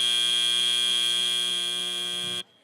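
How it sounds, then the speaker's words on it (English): A loud, steady electronic end-of-match buzzer sounds at a robotics competition, holding one harmonic-rich tone for about two and a half seconds before cutting off abruptly. "And as the buzzer sounds, our referees need some more time to review that match."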